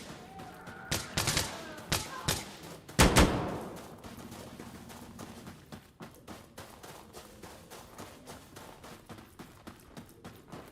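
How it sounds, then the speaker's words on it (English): Gunfire in the tactical shooter Insurgency Sandstorm: a loud burst of close shots in the first few seconds, then a steady run of fainter distant shots ticking on to the end, under occasional player talk. "You guys just shooting at each other?"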